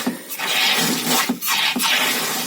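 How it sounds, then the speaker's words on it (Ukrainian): Water pours steadily into a garden watering barrel, a continuous loud rushing splash with a few brief dips, close by and with no voices. "Ось Тут доливається водичка."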